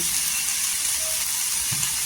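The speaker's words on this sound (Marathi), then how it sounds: "इथे मी 2 ते 3 कांदा घेतलेले आहेत, कट केलेले आहेत. छान असं तव्यामध्ये भाजून घ्यायचं" Cut onions roasting on a flat tawa, a loud, dense and continuous sizzle close up with a faint scrape near the end and no talking.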